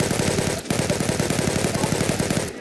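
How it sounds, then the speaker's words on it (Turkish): Rapid automatic gunfire in a video game rattles in a fast, even stream of loud close shots, broken by one brief pause before resuming. "Benimki zaten 13 mermiyi ben seri atıyorum"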